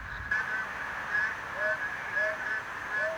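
A hidden narrow-mouthed toad in a rain-filled forest puddle gives short, nasal, honk-like calls at a steady, regular pace, with other callers faintly layered behind over low ambient noise.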